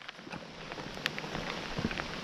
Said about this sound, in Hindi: वैसे बारिश का अपना अलग मज़ा भी है।